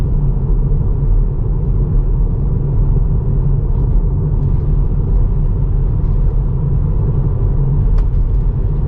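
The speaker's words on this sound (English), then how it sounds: "I'm using only 24 kilowatt now to accelerate the car." Tesla electric car accelerating gently on about 24 kilowatts, a steady loud rumble of tyre and road noise with a soft whir, constant and close throughout.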